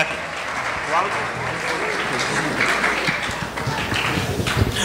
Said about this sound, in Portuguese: Uma salva de palmas para o Aldo.